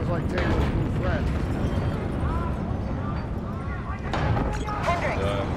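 Explosions in Call of Duty Black Ops 3 campaign mission Hypocenter, rumbling blasts across a facility mixed with mechanical clatter and game sound effects, dense and continuous, with a voice speaking over the noise.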